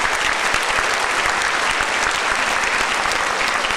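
Sustained audience applause fills a school award ceremony held at a memorial evening in Moscow, a dense, steady wash of many hands clapping throughout, loud and close with no pauses.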